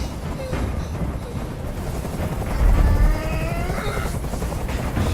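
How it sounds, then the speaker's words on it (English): A helicopter hovers in the video game Detroit: Become Human, a loud, steady low rotor thump and engine rumble under game ambience, swelling briefly midway, with no speech. "Tell that helicopter to get out of here."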